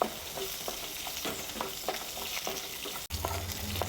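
Shallots sautéed in a pan for pirandai chutney, a steady close sizzle with rhythmic spoon scrapes about twice a second, then a brief cut and a lower rumble near the end.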